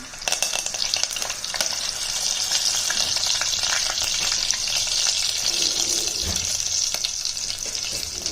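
Crushed ginger, garlic and curry leaves fry in a pan for sambar, giving a steady, close broadband sizzle with crackles and spoon-stirring scrapes throughout, no voices.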